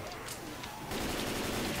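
Dense automatic gunfire in Left 4 Dead during the Flu Season mutation, teammates being shot, a continuous loud rattle that thickens in the second half.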